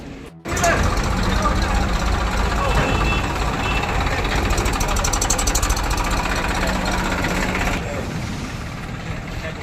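A tractor engine idles steadily and loudly at a weighbridge, a continuous rumbling drone lasting several seconds that eases slightly near the end.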